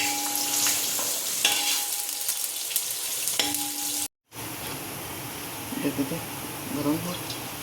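A second batch of sliced onions sizzles in hot oil in a pan, with a steady close hiss and a voice talking over it. A short break comes midway, then the frying resumes under more speech.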